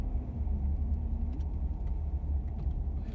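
A car rolls slowly into a parking spot, its engine giving a steady, close low rumble throughout with no voices.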